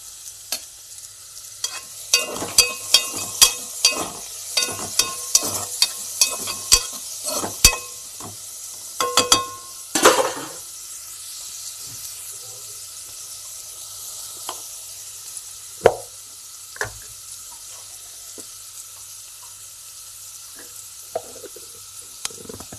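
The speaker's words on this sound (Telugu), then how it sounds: "ఉల్లిపాయలు వేగాక టమాటాలు, బెండకాయలు రెండు వేసేసుకున్నాము." Tomatoes and okra sizzle with onions in a pan, with a run of sharp close stirring clatters early on and then a quieter steady frying hiss with occasional knocks, and no talk.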